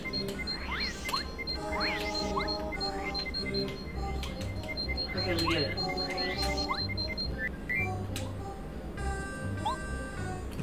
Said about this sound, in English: now he won't get to hear that infernal beeping anymore